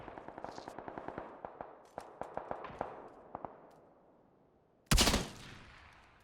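Single Desert Eagle pistol shots in PUBG, a run of sharp cracks spaced irregularly and fading into a quiet gap, then one loud close blast near the end.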